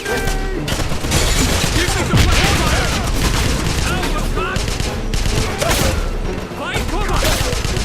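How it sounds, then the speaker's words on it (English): In the video game Wolfenstein 2009, a dense battle plays out with rapid short gunfire bursts and booming blasts, including a grenade, loud and continuous throughout. "It's easier to do, like a short burst, and also, grenade here."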